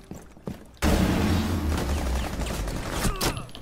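Rapid sustained gunfire in a multiplayer shooter video game, a dense loud burst of shots kicking in after a quiet moment and continuing steadily to the end.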